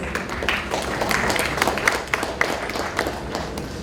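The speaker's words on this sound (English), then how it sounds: "a huge round of applause for our panelists" An audience claps for a corporate conference panel, a dense patter of many hands spread through the room, steady and moderately loud, with a voice faintly underneath.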